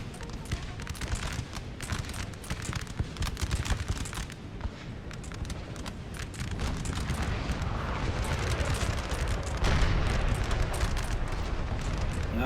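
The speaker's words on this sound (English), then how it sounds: "Okay, so we've got 5 cannons firing on this house." Five 6-pounder cannons firing on a house during a siege in Napoleon Total War, dull booming thuds landing repeatedly in a rumbling, irregular barrage beneath a steady low battlefield roar.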